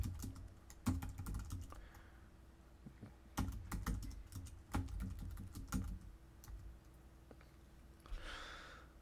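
Typing on a computer keyboard, close and quiet, in irregular bursts of key clicks with brief pauses, and a soft breathy sound near the end.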